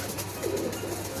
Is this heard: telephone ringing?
no